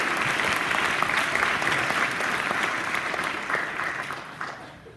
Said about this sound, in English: Yes, you can clap if you like that.